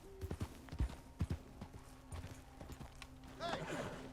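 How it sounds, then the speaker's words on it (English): A Morgan horse in Red Dead Redemption 2 walks nearby, its hooves clip-clopping in a steady irregular rhythm at low volume, ending in a soft snort or whinny-like call, with no talk over it. "Nope, that would be a horse"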